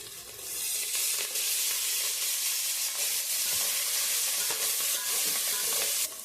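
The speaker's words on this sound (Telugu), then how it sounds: "ఇప్పుడు మనం ఇందులోకి మెంతాకు వేసుకున్నాం. మెంతాకు వేస్తున్నాను కొంచెము." Fenugreek leaves tossed into onion and ginger-garlic frying in a pan for vegetable rice, a steady near hissing sizzle with soft stirring strokes throughout, no speech.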